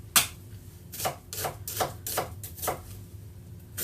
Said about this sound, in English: now what we're going to do is chop that finely